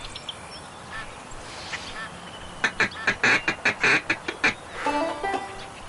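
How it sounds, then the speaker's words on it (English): Ducks fly in on the Duck Dynasty video game for PS4, with a rapid burst of loud, close quacks in a quick rhythmic series over a faint outdoor background, followed by a few softer calls. "Hey, there's some ducks coming in."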